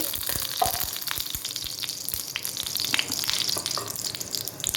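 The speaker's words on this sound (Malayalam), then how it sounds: "ഒരല്പം എണ്ണ ഒഴിച്ച്" Oil being poured into a hot pan to reheat leftover pork curry, a steady crackling sizzle with sharp spitting pops throughout, close and fairly loud, with no voices.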